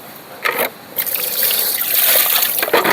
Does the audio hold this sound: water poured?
yes